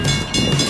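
A train passes a few blocks from a restaurant during a motorcycle trip, its steady low rumble and rail noise loud and continuous with no talk over it.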